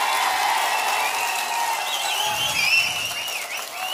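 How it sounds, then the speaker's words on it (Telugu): A large crowd at a political rally applauds loudly and continuously, a dense wash of clapping heard from within the audience, with faint voices mixed underneath. "గట్టిగా చప్పట్లు కొట్టి మీరంతా కూడా ఇచ్చేయాలి"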